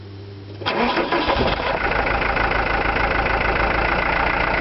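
A car engine being restarted: a brief starter crank, then the engine catches and settles into a loud, steady idle, heard alone close up.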